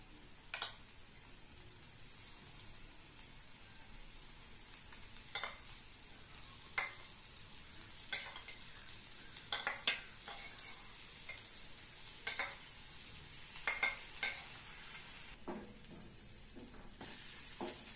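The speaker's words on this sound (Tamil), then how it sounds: "சோரொட்டி வேகிற வரைக்கும் தீயை கம்மியாக வச்சுட்டு வதக்கணும்" Goat spleen sautéed and stirred in a pan on low heat: a soft, continuous sizzle with a string of sharp spoon scrapes and taps at irregular intervals, near and fairly quiet.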